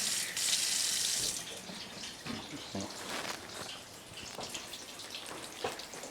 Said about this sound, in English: So I just want to rinse it. I did have it in the sink.